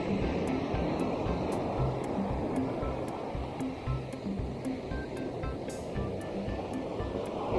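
Ocean surf at high tide on the coast at Vengurla, with powerful waves rolling in: a loud, steady, continuous roar of breaking water with no pause, and no voices.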